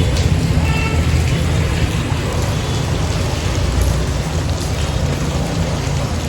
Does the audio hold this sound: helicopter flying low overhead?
no